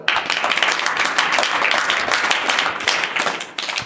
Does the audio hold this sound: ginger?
no